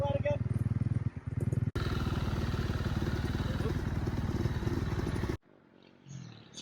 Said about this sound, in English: ripping around the YCF 150 pit bike that we're going to be giving away